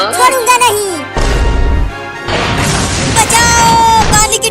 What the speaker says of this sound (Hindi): पानी की टंकी टूट गया